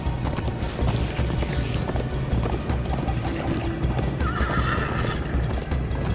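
Horse galloping in the video game Minecraft: Story Mode: fast hoofbeats run continuously under wind and rushing background noise, with a short neigh near the end.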